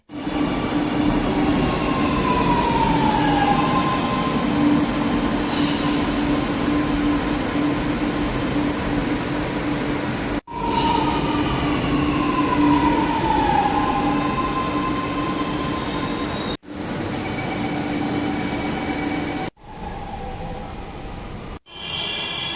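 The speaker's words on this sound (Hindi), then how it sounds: "टिकट ले करके हम जैसे ही मेट्रो आई, बैठ भी गए।" Steady rumble of a metro train in motion in Lucknow, with wheel and motor hum, occasional squealing, and a few abrupt breaks in the sound.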